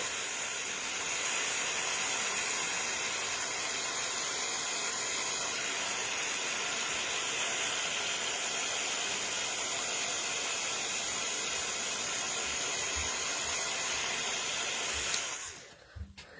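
A heat tool melting embossing powder blows a loud, steady, close whooshing hiss for about fifteen seconds, then cuts off abruptly, leaving a few faint clicks.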